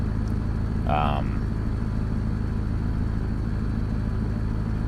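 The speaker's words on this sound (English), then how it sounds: "I really enjoy the engine noise" Heavy truck engine in Euro Truck Simulator 2, a steady low rumbling drone throughout, with a brief tonal blip near the start.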